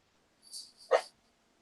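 A dog lets out a single short bark after a soft whimpering sound, faint and somewhat distant, in an otherwise quiet room.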